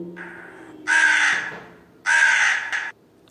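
A crow in a children's story gives two loud, harsh caws close by, each about a second long and separated by a short pause, over a faint quiet background.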